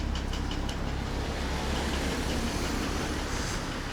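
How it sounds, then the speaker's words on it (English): A Porsche engine idles nearby with a steady rumble and a faint, quick ticking in the first second, heard alone. "You can hear that Porsche engine."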